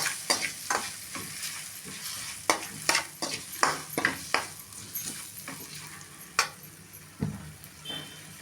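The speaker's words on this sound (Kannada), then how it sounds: "ನಾನು ಅರಿಶಿನ ಪುಡಿ ಹಾಕ್ತಾ ಇದ್ದೀನಿ ಹಾಕ್ಬಿಟ್ಟು ಸ್ವಲ್ಪ ಹೀಗೆ ಫ್ರೈ ಮಾಡೋಣ" Black-eyed peas frying with turmeric powder in a pan, a soft sizzle under repeated scraping and clinking of a spoon stirring against the metal at an uneven pace, with no talking.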